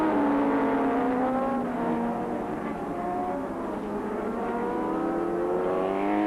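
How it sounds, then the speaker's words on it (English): A Kawasaki superbike races in a 1985 SBK race, its engine howling high and loud with sweeping pitch changes as it revs through gears, steady and continuous with no voices over it. "Taken a lot of development to get that Kawasaki working, but now Len Willing is proving"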